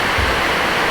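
Steady rain falls in a dense, even hiss with no breaks and no other sounds, loud and close.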